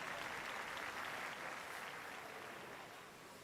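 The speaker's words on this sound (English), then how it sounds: "Nothing, that is, except for the thunderous applause from the audience." Audience applause in the video game Octopath Traveler II, steady dense clapping from a crowd that holds throughout and slowly tapers toward the end, heard alone without talk.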